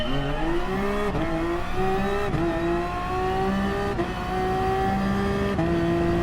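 LMP1 hybrid race cars in the GT Sport video game launch from a straight-line start at Le Mans, one engine whining loudly as it climbs through a series of rapid upshifts, with no voices over it.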